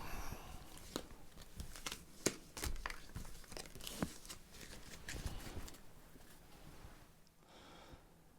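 Close papery crinkling and rustling in quick, uneven bursts, like cards being handled and shuffled, tapering off toward the end.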